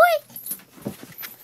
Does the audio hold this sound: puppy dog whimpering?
yes